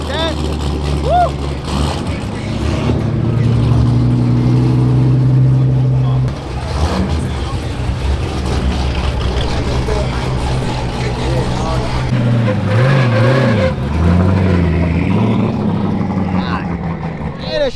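Dodge Demon 170 at a Streetcar Takeover drag track, its engine roaring loud and near with a heavy, throbbing low rumble that shifts in pitch as it accelerates, under excited voices from people nearby.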